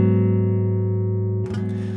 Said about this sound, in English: the 5 chord resolves up to the 6 chord